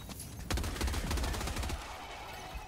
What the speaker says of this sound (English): Orbital incoming.